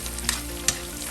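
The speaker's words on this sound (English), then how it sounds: "I'm doing my onions first just to extract that flavor from the onion" Onions and sweet pepper fry in coconut oil in a frying pan, giving a steady close sizzle with two brief sharp crackles.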